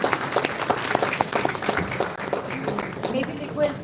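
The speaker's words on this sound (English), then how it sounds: "Let's have a round of applause, ladies and gentlemen." Audience applause at an education conference, uneven clapping from a seated crowd with some individual claps standing out, while voices and murmurs carry along beneath it.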